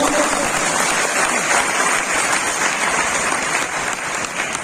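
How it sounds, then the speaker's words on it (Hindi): A large audience claps loudly and steadily at an AWPL training session, with dense, continuous applause holding for several seconds and easing slightly near the end. "ताली बजाओ, मैं सुनाता हूं।"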